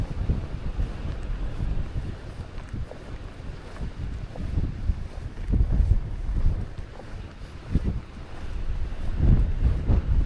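Strong wind at the summit of Mount Washburn in Yellowstone National Park buffets the microphone with a continuous low roar and gusty swells, loud and close, with no voices.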